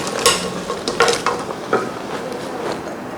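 Already fried sweet potatoes and potatoes stirred together in a pan, a constant sizzle under several clattering scrapes of the spoon against the pan, close and fairly loud.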